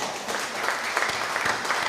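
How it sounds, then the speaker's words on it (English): Crowd applause at an outdoor Trinidad and Tobago Independence Day flag-raising ceremony in Markham, a steady wash of many hands clapping at moderate volume, continuous and without talk. "And yes, you should applaud."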